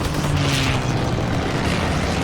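Air strike explosions in the Call of Duty: WWII video game, a dense rolling rumble of blasts and booms with aircraft noise, loud and continuous through the short stretch.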